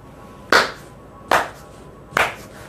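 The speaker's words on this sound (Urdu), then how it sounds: "اس طرح آپ نے تالی بجانی ہے گھر میں" Three loud, sharp hand claps ring out at an even, unhurried pace about a second apart, each standing alone against a quiet indoor room.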